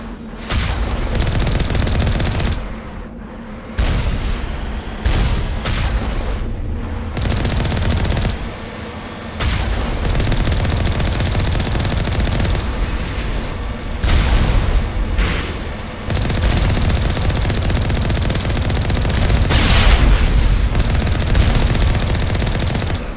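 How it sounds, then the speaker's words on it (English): Enemy gunfire in the Mass Effect game: near, loud bursts of rapid automatic fire with sharp cracks and booms, broken by short pauses, continuing through the stretch. "Yep, they're firing on me"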